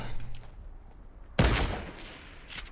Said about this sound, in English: They're still up there shooting.